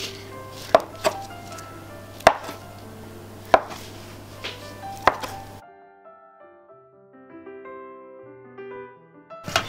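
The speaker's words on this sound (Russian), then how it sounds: "я тесто вытягиваю, чтобы оно такое было у меня узенькое, и я нарезала булочки" A knife chops through soft brioche dough on a board, cutting it into buns; five or six distinct close thuds land at irregular intervals over a steady background hum, then fade into quiet room sound with no speech.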